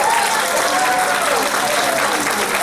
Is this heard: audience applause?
yes